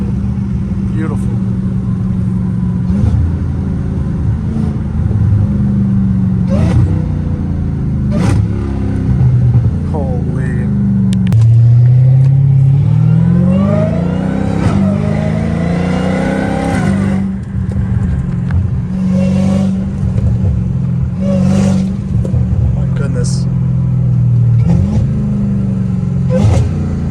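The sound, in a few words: straight-piped Dodge Hellcat Redeye engine on highway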